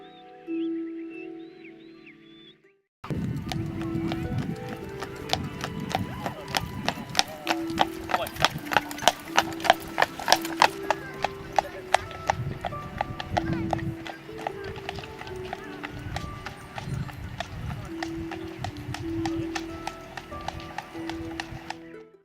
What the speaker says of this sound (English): Muckross is famous for its jaunting cars, horses and buggies